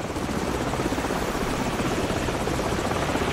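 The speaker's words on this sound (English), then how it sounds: "Hold on, the helicopter's back." A helicopter's rotor thumps and roars steadily and loudly throughout, close overhead, with no voices, in the video game Call of Duty 4: Modern Warfare.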